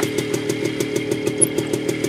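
A Derbi Senda motorcycle engine runs at idle nearby, a loud buzzing two-stroke-like chatter with an even, rapid pulse and no talking.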